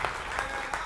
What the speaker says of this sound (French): Applaudissez très fort pour le Seigneur.